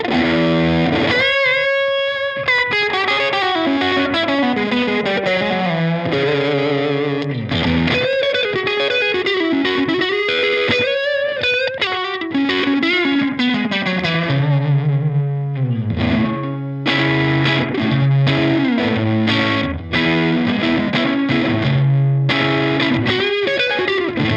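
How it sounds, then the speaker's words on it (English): An overdriven electric guitar plays a melodic lead line through a Cooltone Echoverb delay set to slapback with low repeats and high speed, a short quick echo thickening each note, loud and continuous. "dial in a slapback-ish kind of tone. So I'm going to go for low repeats, high speed"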